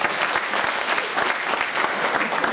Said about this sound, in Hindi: दिल्ली जाके ताली बजाओ एक बार.